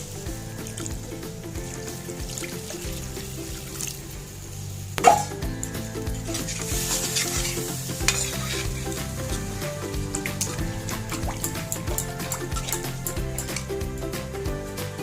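A splash of water hits mustard paste frying in a kadai, setting off a sudden burst and then a sustained hissing sizzle over faint background music.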